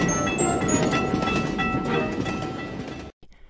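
A passing train rumbles with steady rolling wagon noise and a ringing tonal hum, loud and close, cutting off abruptly near the end.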